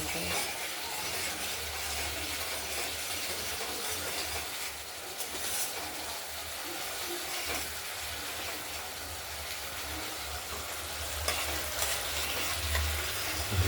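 Spices frying in oil in a pan for a rohu fish curry with potatoes, giving a steady, close sizzle with occasional stirring scrapes throughout, loud and continuous with no talk.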